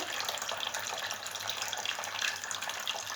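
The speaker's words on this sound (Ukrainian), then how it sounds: "Зараз я витягну е, з цього горщика і побачите, як водичка стікає." Water trickles and drains steadily out of a lifted orchid flower pot, a continuous close splashing with no voices.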